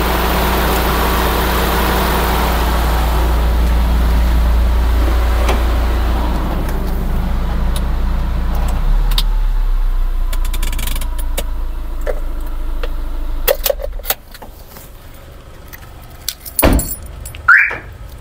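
Car engine idling with a steady low hum that stops about halfway through, followed by quiet with scattered clicks, rattles and a jangle of keys near the end.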